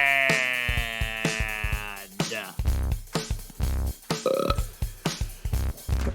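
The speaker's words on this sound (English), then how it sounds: "You began it with a burp and you ended it with a burp." Long, loud, deep burp with a rippling rasp, followed by a series of short choppy sounds in quick rhythmic succession.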